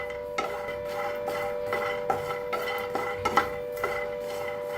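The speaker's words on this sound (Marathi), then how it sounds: "आता हलकसं शेंगदाणा भाजलेलं आहे, त्याच्यातच भाजून घेऊया खोबरं बी। मिक्स करून भाजूया।" Peanuts and coconut dry-roast together in a pan while a spatula stirs them, giving irregular scraping clinks and taps over a steady low background hum.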